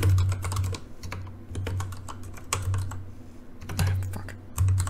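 Rapid keyboard typing, a steady clatter of key clicks in bursts with brief pauses, close and clear, over a low hum.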